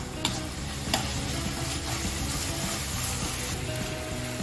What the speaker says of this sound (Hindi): और ये सब डाल के अच्छे से मिक्स कर लूंगी